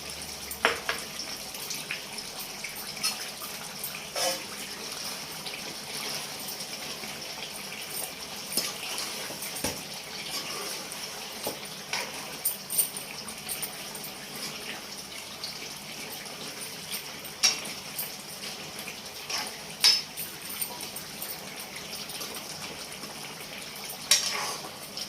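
Water splashing into a cooking pot while Sunday-special chicken curry is prepared, a steady soft wash of pouring and bubbling with a few clinks, close and moderately quiet throughout.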